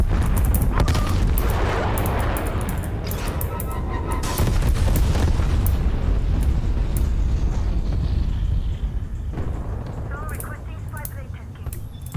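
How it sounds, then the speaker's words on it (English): Napalm strike explosions in a video game roar as a continuous loud, rumbling barrage with booming bursts that keep up for several seconds, with faint voices beneath. "Napalm strike incoming."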